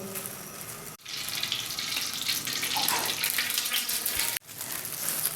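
A steady, close pour of oil into a cooking pot for chicken karahi, a continuous liquid splash broken by two short pauses, with no speech.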